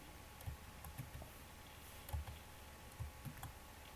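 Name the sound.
typing on a computer keyboard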